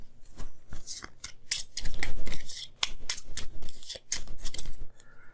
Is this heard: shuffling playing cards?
yes